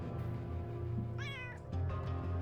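A cat meows in the UnderRail post-apocalyptic RPG, one clear rising-and-falling meow over a low droning game ambience, alone without speech.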